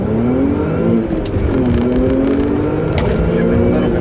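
APR-tuned Audi S4 pulling away from a clutch launch and accelerating hard, its engine note climbing in pitch through the run, dipping once for a shift and then rising again, close and prominent.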